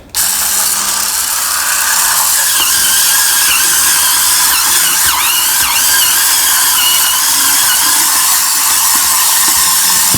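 A cordless Hurricane spin scrubber brush whirs continuously while scrubbing, a loud close high-pitched mechanical whine with squealing and ratcheting tones that holds steady throughout.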